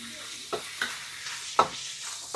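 Ground meat stirred into a sizzling pan of pancit negro, a Filipino black noodle dish, with steady frying hiss and a few sharp scraping strokes of a utensil spaced through the sizzle, close up, no talk.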